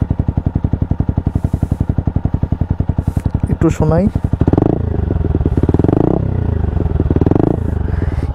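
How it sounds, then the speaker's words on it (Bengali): A TVS Apache RTR 160 4V motorcycle with a loud aftermarket-sounding exhaust idles close by, a steady rapid low thump with brief blips, while someone talks over it. "এই হচ্ছে ideal R P M A exhaust note"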